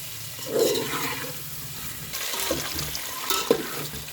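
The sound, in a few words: eggs frying in oil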